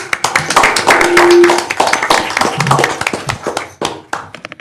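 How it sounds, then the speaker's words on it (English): Audience clapping at a city work session, a burst of claps mixed with voices and some tapping, fairly loud and close, tapering off near the end. "Yeah, y'all can clap."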